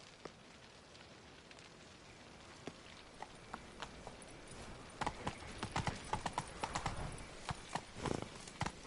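Roach, Geralt's horse in The Witcher 3, its hooves clopping on the ground, quiet and steady at first, then quicker and louder as it breaks into a run, over a low outdoor ambience with no talk.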